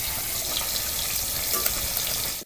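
Fish sizzles steadily in a hot pan of oil for a Bengali-style fish and brinjal dish, a continuous close crackle with no voices, cutting off abruptly at the end.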